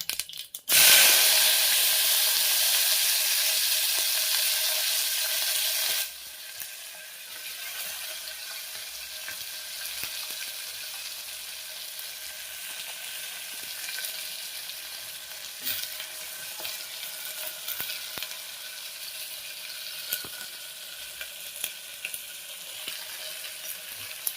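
Onions dropped into hot oil with cumin and mustard seeds burst into a loud, bright sizzle, then settle to a steady softer frying hiss with scattered stirring clicks. No one speaks.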